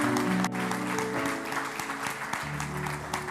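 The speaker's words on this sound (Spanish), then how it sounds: "Dale un aplauso al Señor" A church congregation applauds during a Spanish-language sermon, a steady wash of clapping over a sustained musical backing of held organ or keyboard tones, carrying evenly through the few seconds with no voices.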